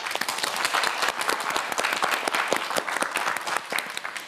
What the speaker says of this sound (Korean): 응원의 박수 부탁드립니다.